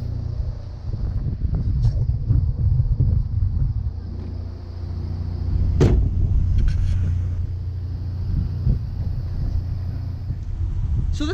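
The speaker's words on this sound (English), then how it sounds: "So this car has the JCW sound kit." A MINI Cooper Convertible fitted with a JCW sound kit (ECU reflash, exhaust and intake) drives along, its low engine and exhaust rumble steady under heavy wind buffeting, swelling briefly midway.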